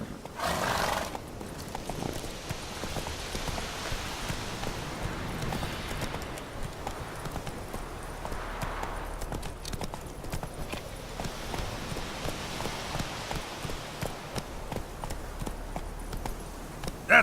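Roach, the horse in The Witcher 3, neighs and clip-clops, the hooves trotting rhythmically and close with a whinny over them, while game music and ambience continue underneath.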